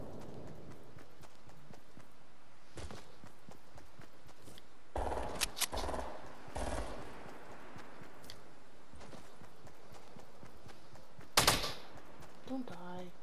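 Fortnite Battle Royale gunfire comes as scattered sharp shots and short bursts in a mostly quiet stretch, with one louder volley near the end.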